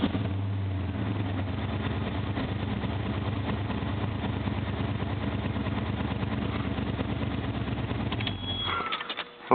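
A car engine fires up and settles into a steady, loud idle with a rapid even pulse, running close by for most of the stretch before cutting off near the end; no one speaks.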